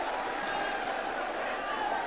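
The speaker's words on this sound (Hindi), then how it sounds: "जोरदार तालियां बजा के आदरणीय नारायण" An audience at a political rally in Rajasthan gives steady, dense applause, a continuous wash of clapping and crowd noise held at even loudness throughout.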